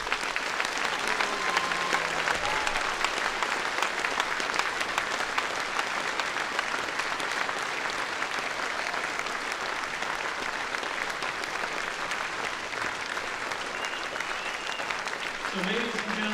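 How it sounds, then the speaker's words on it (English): An audience at a boys' wrestling crossover event claps in sustained, dense applause that holds steady from start to finish, with a voice briefly heard near the end. "Let's give him a big round of applause,"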